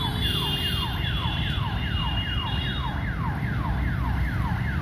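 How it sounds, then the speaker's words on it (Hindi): A loud train warning horn at a railway crossing wails continuously, rising and falling in a fast repeating sweep, with steady rumbling traffic noise underneath. "अभी जो हॉर्न बज रहा है ना,"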